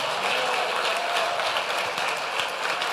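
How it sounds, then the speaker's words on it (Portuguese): Church congregation applauding during a Portuguese-language worship service, a steady dense wash of clapping from many hands filling the room, sustained and even throughout with no speech over it. "aplauda o Senhor Jesus."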